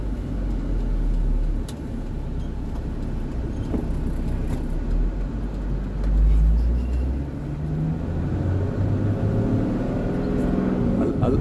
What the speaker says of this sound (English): Driving through the countryside of Arusha.